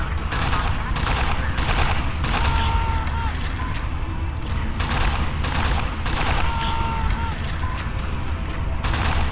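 Assault rifle fire in the VR mech game Mecha: steady, loud automatic bursts with short gaps between them, layered over a constant mechanical hum and faint background voices.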